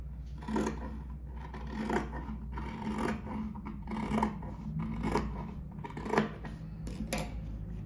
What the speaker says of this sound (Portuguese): Daí aqui a gente vai cortar bem no meio do risco da caneta aqui.